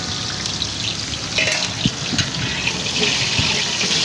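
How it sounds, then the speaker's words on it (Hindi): Onions fry loudly in a large quantity of ghee, a dense, continuous close sizzle with occasional stirring bumps and pops, and no talking. "और प्याज को ब्राउन कर देंगे।"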